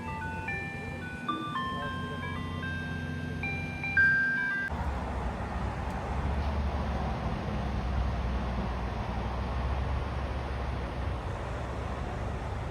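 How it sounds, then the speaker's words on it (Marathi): An ice cream truck stopped nearby plays its tinkling jingle melody for about four seconds, then it cuts off and leaves a steady outdoor rush of wind and traffic-like noise at a beach outing. "इथे आईस्क्रीमची गाडी आली आहे"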